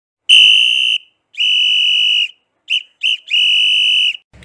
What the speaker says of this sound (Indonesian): sang wasit meniup peluit